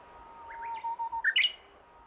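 A Korean bush warbler on a wetland island sings a clear, rising whistled phrase that ends in a quick, loud flourish of notes, close and alone over a quiet background.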